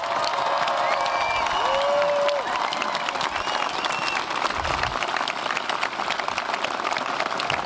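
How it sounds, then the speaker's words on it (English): Sustained applause from a large crowd honoring the governor at a same-sex marriage legalization event in Minnesota, dense steady clapping with some cheering and a whistle, loud and continuous throughout. "let's give the governor another round of applause"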